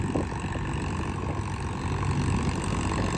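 A diesel tractor pulls a deep tine harrow through a castor field, its engine giving a steady, moderately loud drone with no clear breaks.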